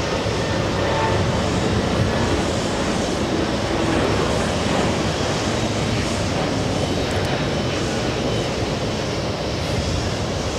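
A jet airliner at JFK Airport, flight 609 bound for Rome Fiumicino, roars steadily with loud, broad engine noise that holds constant and close for the whole stretch.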